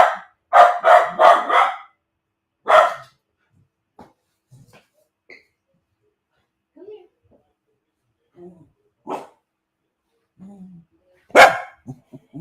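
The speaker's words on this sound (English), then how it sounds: "See, this is my guard dog." A pet guard dog barks in a quick burst of four sharp barks followed by another bark, then quieter sounds and a later bark, with a person briefly speaking in between.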